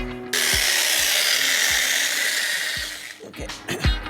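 A power drill whirs loudly and steadily for about three seconds while widening a hole in a clay pot, then winds down into a few knocks and scraping handling sounds.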